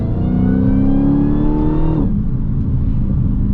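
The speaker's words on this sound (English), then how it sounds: "Now you guys can hear the supercharger." A Dodge Challenger Hellcat Redeye engine revs up with a rising supercharger whine, then drops off abruptly as the throttle lifts, loud and close.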